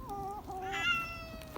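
Several hungry street cats meow close by while being fed liver, overlapping high, drawn-out cries in quick succession over a faint background rumble.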